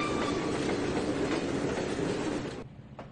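A train rolling in Trainz 2019, a steady loud rumble with clickety-clack wheel rhythm that cuts out abruptly near the end, leaving a faint click and near silence.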